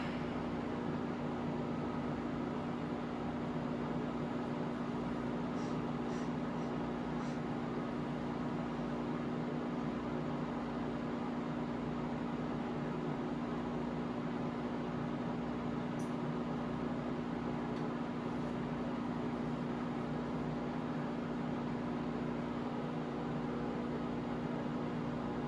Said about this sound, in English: I don't want to over microwave this thing.